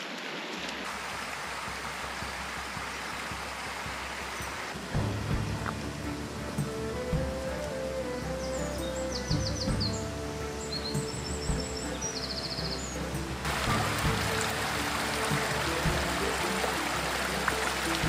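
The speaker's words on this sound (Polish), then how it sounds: "Tutaj sobie taki potoczek malutki płynie." Small stream in the Zaskalskie Bodnarówka forest reserve, swollen after night rain, rushing steadily nearby with a constant watery hiss; birds call faintly in the background, and the flow grows fuller partway through.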